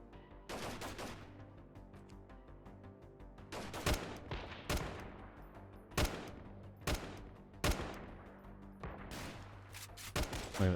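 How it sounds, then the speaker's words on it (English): Video game shotgun blasts in a modded Freeman: Guerrilla Warfare match, loud and booming. Sharp reports fire at a steady, spaced rhythm over a continuous background rumble, with no talking. "Look at that shotgun spread."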